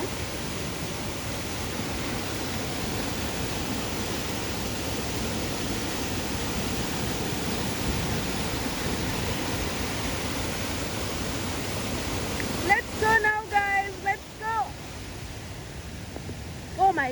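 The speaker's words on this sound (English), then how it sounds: "the waterfall has grown big. You can see it has really increased because of the rain" A rain-swollen waterfall in Karura Forest, Kenya, roars as a steady, broad rushing wash close by. Near the end, a voice speaks over it.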